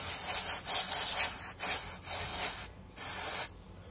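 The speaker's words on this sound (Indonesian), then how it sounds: "Semprotnya boleh pakai contact cleaner atau lain sebagainya" Contact cleaner sprayed onto a motorcycle's electric starter motor during a repair, heard as several close, sharp hissing bursts with short pauses between them, the last one ending abruptly.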